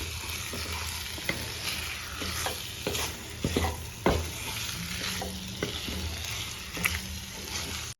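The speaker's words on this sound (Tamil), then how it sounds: "சிக்கனே மசாலாவே நல்லா மிக்ஸ் ஆகுற அளவுக்கு நல்லா அப்படியே பரட்டி விடணும்" Chicken coated in pepper masala sizzles steadily in a pan for pepper chicken, with frequent scraping stirs and clacks of a spoon against the pan over a continuous close frying hiss.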